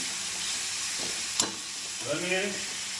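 Moth bean sprouts tipped into a frying pan already holding green chili, tomato and turmeric, giving a soft steady sizzle, a brief sharp clatter midway, then stirring scrapes, all fairly close.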